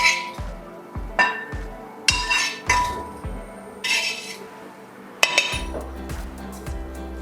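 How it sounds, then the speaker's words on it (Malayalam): Sautéed mushroom filling is scooped from a pan into a bowl with a metal spoon, making a series of bright clinks and scrapes against cookware at a steady, unhurried pace, close up, with a low hum underneath. "ഇനി നമുക്ക് ഇത് കോരിയെടുത്ത് പാത്രത്തിലേക്ക് ഇടാം"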